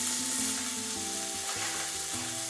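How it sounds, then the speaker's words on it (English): Chopped onion sautéing in a pan for broccoli soup, loud continuous sizzle with scraping stirs as the pieces are moved around, no voices. "we move that around for about a minute until the onion breaks down"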